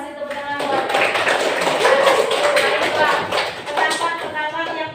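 Applause from a class of students, scattered claps building into a steady round, with voices talking over it.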